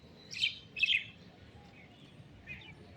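Mynas give a few short, bright chirps at close range while being fed, two quick calls and then a softer one, over a quiet background.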